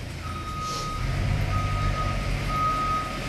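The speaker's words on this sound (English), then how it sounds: "Cue the annoying beeping." Repeated reversing beeps from a truck sound in a steady on-off rhythm at moderate distance, over a low idling engine rumble.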